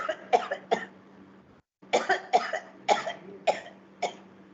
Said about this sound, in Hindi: माफ करें, खांसी,